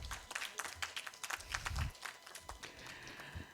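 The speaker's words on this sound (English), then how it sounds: "A big round of applause." Audience applause greeting a speaker at a lecture on India's foreign policy, steady mid-level clapping from a modest crowd that runs through the whole clip.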